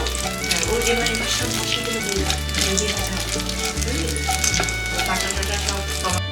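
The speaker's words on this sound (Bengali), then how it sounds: "এলাচ, দারচিনি এটা একটু ভাজা ভাজা করে নেব।" Cardamom and cinnamon fry in hot oil in a pan for a prawn curry, a close, continuous crackling sizzle under a voice speaking over it.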